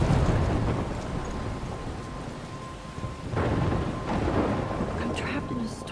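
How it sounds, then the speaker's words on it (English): Thunderstorm in the video game Life Is Strange: steady heavy rain hiss with low rumbling thunder rolling through, swelling in two louder surges midway, dense and close throughout. "I'm trapped in a storm?"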